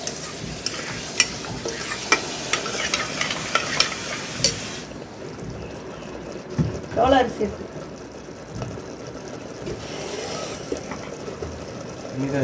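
Masala sautéing in oil for a village-style mutton head curry, a close sizzle with scraping stirs and a few sharp ladle taps, with a voice talking partway through.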